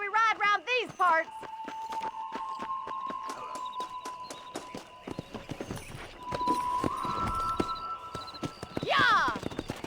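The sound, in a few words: horse galloping in Red Dead Redemption video game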